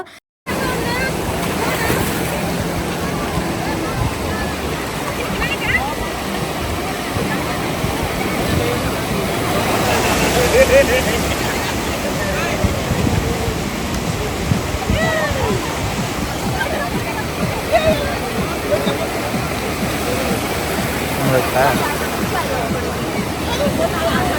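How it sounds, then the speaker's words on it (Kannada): Constant rushing water and heavy splashing from a boat ride, loud and continuous throughout, with the roar swelling midway and no clear talk. "ಅಪ್ಪು ಅವ್ರ ಸೊಂಟಕ್ಕೆ ಕಟ್ಕೊಳ್ತಾ ಇದ್ರು ಯಾಕಂದರೆ ಸ್ವಲ್ಪ ಭಯ ಅಲ್ವಾ ನೀರು ಮೈ ಮೇಲೆ ಬರ್ತಿರುತ್ತೆ"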